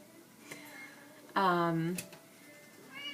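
A large domestic cat gives one clear, fairly close meow lasting about half a second, with faint room noise around it.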